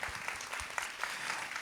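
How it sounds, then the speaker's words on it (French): An audience at a regional theatre-intervention day applauds the actors, a brief, fairly quiet burst of clapping with no voices over it. "Je vous demande d'un tonnerre d'applaudissements pour les comédiens d'un jour"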